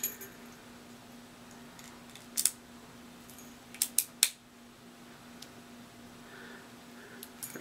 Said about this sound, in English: So let me change keys back here.